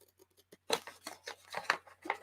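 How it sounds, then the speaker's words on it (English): Scissors snip around a drawn half circle on paper for a recipe journal, a quick series of close, crisp cuts with short pauses between them. "trim around it with my scissors"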